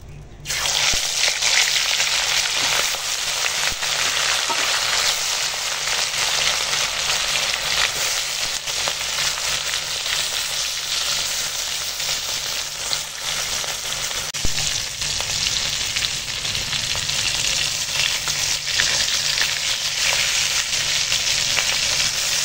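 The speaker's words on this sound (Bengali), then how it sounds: "চলো বাকি মাছগুলো ভেজে নেবো" Mourala fish frying in hot oil for a crisp fry, giving a loud, steady, dense sizzle that runs unbroken throughout with no talking over it.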